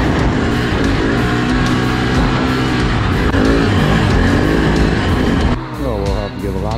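A custom-motored Can-Am quad ATV runs loud and close, a steady engine drone with rising and falling revs near the end, with voices speaking over it.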